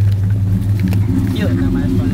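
A Dodge or Ford pickup truck engine idling and running, a steady deep low rumble close to the microphone, with people talking over it.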